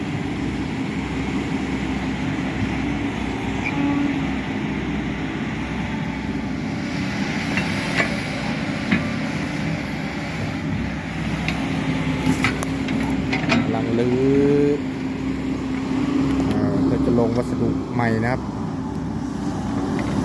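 A SANY SY135C excavator works an earth-fill site, its engine droning steadily throughout with rising hydraulic whines and brief metallic clanks in the latter half, while someone talks over it.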